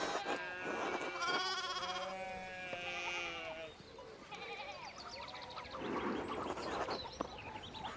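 Sheep in the medieval video game Pentiment bleat loudly in a series of wavering, drawn-out calls, several overlapping. Quieter rustling and ambient sounds fill the gaps between bleats.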